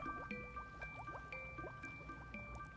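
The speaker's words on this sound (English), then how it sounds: "you want to make sure you're agitating the water through each change cycle, because when you agitate it, that'll really help loosen up the ink" Faint water being swished and sloshed in a small container while rinsing fountain pen parts, with soft drips and gurgles over quiet background.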